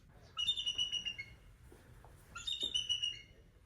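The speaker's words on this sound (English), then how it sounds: "do you know what a bald eagle actually sounds like?" A bald eagle gives two bursts of thin, high chirping and piping calls, a rapid twittering series, then a pause, then another series, fairly faint and with no voices.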